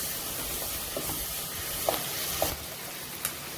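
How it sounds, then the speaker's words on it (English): Onions frying in a pan for an Andhra-style keema curry, a steady broadband sizzle with faint stirring scrapes and a few small pops, close and continuous throughout. "Let the onions fry a little bit"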